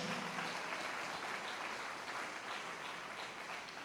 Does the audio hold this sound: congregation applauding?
yes